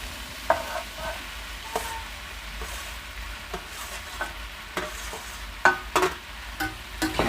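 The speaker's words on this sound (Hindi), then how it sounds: "आलू को 5 मिनट तक फ्राई करते रहेंगे। फ्राई हो चुका है, इसमें डालेंगे हम शिमला मिर्च" Potatoes and capsicum being fried and stirred in a pan, with soft sizzling under intermittent scraping clacks of a spoon against the pan.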